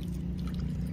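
Water is poured into a hibiscus plant pot during repotting, giving a soft, steady splashing gurgle, close and low, continuous for about a second.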